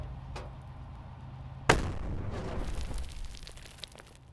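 A tank gun fires a single sharp, loud shot in The Troop, a World War II tank game, followed by a rolling, decaying rumble of the blast and scattered faint crackles.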